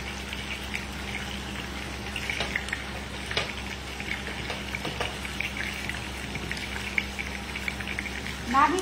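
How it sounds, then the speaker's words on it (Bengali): Chicken lightly frying in a pan gives a soft, steady crackling sizzle like light rain throughout, with a low hum beneath and a brief louder clatter at the end. "আমি হালকা একটু ভাজবো, 2 মিনিট করে একটু চোখে ভেজে দেব।"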